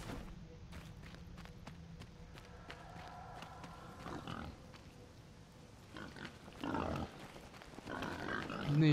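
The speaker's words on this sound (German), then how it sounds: "Oh Gott, hier ist alles voller Schweine." Pigs grunting in the survival video game Enshrouded, several low grunts and snorts scattered over a faint background with scuffling movement sounds, with some quiet talk alongside.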